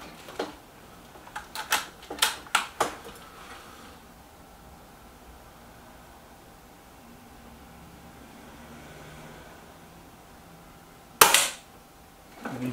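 A Weihrauch HW110 air rifle firing pellets: a quick series of sharp cracks and clicks in the first three seconds, then quiet, then one louder sharp shot near eleven seconds.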